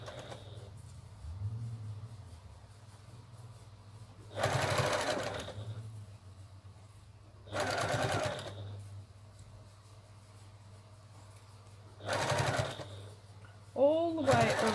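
Sewing machine hemming a double-layer cotton face mask in three short bursts of fast, buzzing stitching, close by, separated by pauses, with a voice talking between runs.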